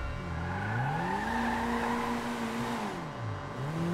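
A Bollokan Prairie compact car in GTA Online accelerates with a steady, loud engine drone. The revs climb, hold, dip briefly and rise again, with no voices.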